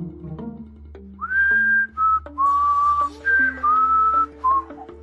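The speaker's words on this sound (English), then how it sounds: "Whistling was okay, just volume high." A person whistles a short, clear melody of several sustained notes, loud and close, with no talking.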